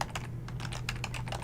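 Rapid computer keyboard typing, a steady run of close, crisp key clicks with no voices over them.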